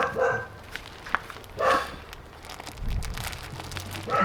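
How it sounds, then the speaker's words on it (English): A dog barks a few times, moderately distant and intermittent, among faint crinkling and household background noise. "So the dog decided to continue barking through all the filming of the video."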